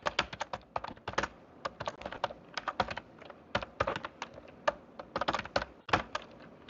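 Rapid keystrokes on a computer keyboard as a line of C++ code is entered, irregular bursts of crisp clicks with short pauses, close and alone without speech.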